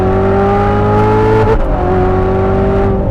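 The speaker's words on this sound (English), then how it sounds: "Listening to the engine going up, down, that's one of the great treats." A 2019 Chevrolet Corvette ZR1 engine revs steadily and loudly up close, its pitch dipping briefly before climbing again.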